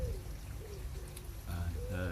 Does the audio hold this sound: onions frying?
no